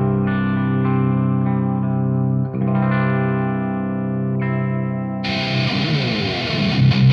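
Carvin CT6, now sold as Kiesel, an all-stock electric guitar tuned to drop C and played with a clean tone. Sustained chords ring and overlap at close range, then a harder, brighter strummed section takes over near the end.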